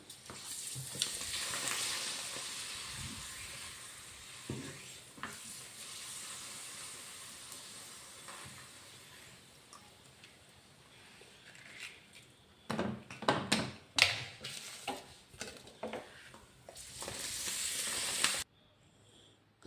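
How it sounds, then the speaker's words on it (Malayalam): Papadums frying in hot oil give a steady faint sizzling hiss, then grow louder and busier toward the end, with crackling bursts before an abrupt stop, and no talk. "അടുത്തത് നമുക്ക് 2 പപ്പടം കൂടി വറുക്കാം."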